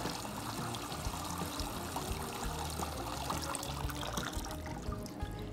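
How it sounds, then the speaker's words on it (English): Water draining from freshly washed kale lifted in a colander, a steady close trickle and pour that runs unbroken for several seconds with no voices. "you're just gonna pick up the colander and let all the water drain out"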